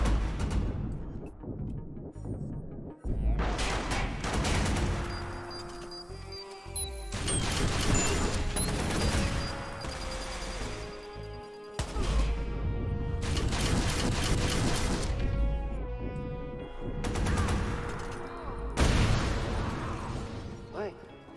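Enemies open fire in the video game Watch Dogs Bad Blood, with repeated loud bursts, cracks and crashes packed densely through the whole stretch over a sustained game soundtrack.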